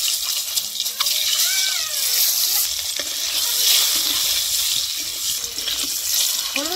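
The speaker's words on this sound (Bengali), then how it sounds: "এখন একটা একটা করে ডিম দিয়ে এরকম করে ভেজে নিব।" Eggs fry one at a time in hot mustard oil with turmeric powder, giving a steady, close, bright hiss of sizzling that holds throughout with slight swells and no speech.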